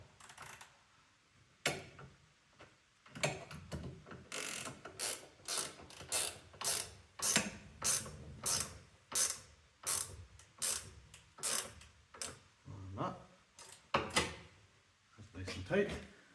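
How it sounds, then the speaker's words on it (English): A 14mm ratchet spanner tightens a nut on the Oregon 520/230, with a long run of loud, close, rhythmic clicking strokes, about one ratchet swing per second, separated by brief pauses. "So for that we're going to use 14mm ratchet spanner."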